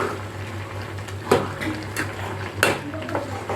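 Scraping and clinking of a spoon stirring avial, a Tirunelveli-style vegetable dish with salt and masala, in a metal pot, a few sharper knocks over a low hum, close by.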